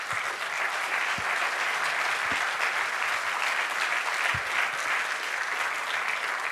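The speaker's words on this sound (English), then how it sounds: "How about a round of applause for our panelists?" A conference audience applauds panelists at a nuclear energy event, producing a steady, even wash of clapping from many hands throughout, with a few louder thumps close by.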